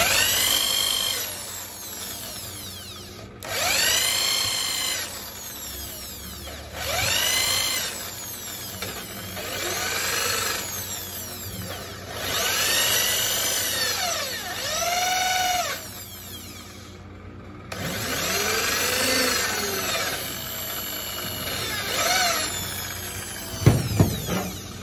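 Power drill boring out and enlarging the hole in a kudu horn shofar (Yemenite style), in repeated bursts of whining drilling separated by short pauses, close and fairly loud, with a few sharp knocks at the end.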